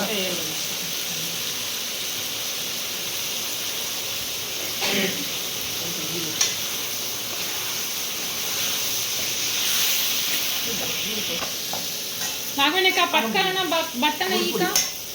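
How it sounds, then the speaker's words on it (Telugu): A ground masala paste fries in a pan for ridge gourd curry, giving a continuous hissing sizzle with occasional stirring scrapes, while someone talks over it, more clearly near the end. "ఇప్పుడు ఆ మసాలాని ఇందులోకి వేసేస్తాం అన్నమాట"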